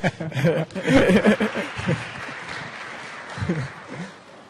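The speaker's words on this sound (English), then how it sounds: "give yourselves a round of applause" Applause from an audience at the opening ceremony of Africa Awareness Week, a short burst of clapping with chuckles and chatter mixed in that quickly thins and fades away.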